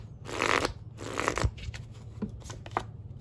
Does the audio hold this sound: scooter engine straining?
no